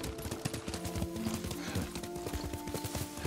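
A horse's hooves clip-clopping at a steady gait while being ridden in the Ghost of Tsushima video game, close and rhythmic, with sustained music tones underneath.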